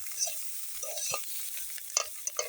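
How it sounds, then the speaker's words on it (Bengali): Leafy vegetable fry crackles in a pan once the water has cooked off, giving sharp scattered pops and spatters over a low sizzle, with spoon scrapes mixed in, close and without speech. "এখন ভাজি ভাজি হয়ে গেছে, টাস টাস করে ফুটতেছে"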